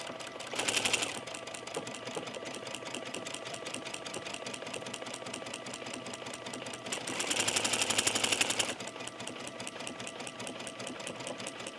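A sewing machine stitches buttonholes on a tunic, running in steady rapid bursts with two louder, faster runs near the start and in the middle, with no talking.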